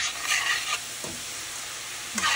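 Food sautes in a hot pan while being stirred for a homemade tomato and meat lasagna sauce, with soft sizzling and a few scraping stirs coming and going over a steady low crackle.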